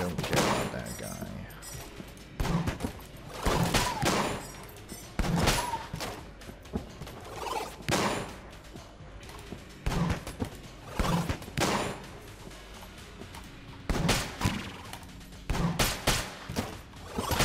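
Gunfire in the video game Enter the Gungeon, sharp bursts of shots and impacts arriving in quick clusters every second or two over a game soundtrack, with someone talking intermittently.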